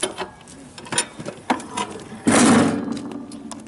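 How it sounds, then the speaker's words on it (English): Loose aluminum heat shield rattling on a 2014 Toro Dingo TX525 narrow-track mini skid steer with a Kubota diesel: irregular metallic taps and clatters, close up, then a louder burst of rattling near the end. "The aluminum heat shield moves around. That's just a typical noise that they make."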